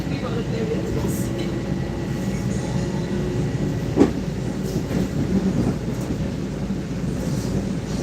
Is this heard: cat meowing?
no